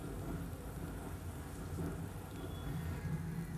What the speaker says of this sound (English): on medium flame we need to saute them until they turn golden brown from both the sides